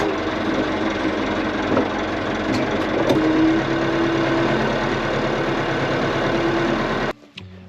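A 1981 Volvo BM tractor's diesel engine runs steadily at close range, a continuous rumbling drone with a faint rising whine partway through, until the sound cuts off near the end.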